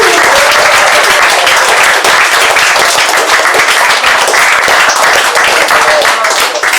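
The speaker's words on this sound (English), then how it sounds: "Give yourselves a round of applause" Loud, sustained applause and clapping from the crowd at an open mic night, holding strong for several seconds with a voice faintly audible underneath.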